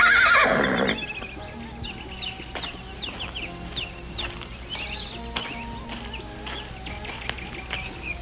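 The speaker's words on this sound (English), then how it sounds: "Looks like a fine horse." A horse whinnies loudly at the start, followed by quieter snorts and shuffling with faint bird calls in the background, in the 1956 film The Lone Ranger.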